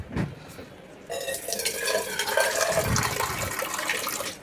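Water is poured from a fridge bottle for a child, a bright splashing stream that starts abruptly and runs for a few seconds with a little gurgle, close and clear.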